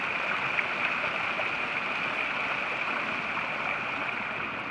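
Creek flowing beside the Appalachian Trail that hikers must ford, a steady, soft rushing murmur heard alone at moderate distance.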